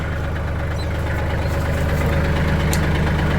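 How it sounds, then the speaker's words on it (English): A Kubota tractor's diesel engine idles steadily nearby, a constant low rumbling chug with no change in pace. "this Kubota tractor made that big tree root"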